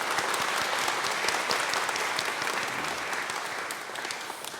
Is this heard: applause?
yes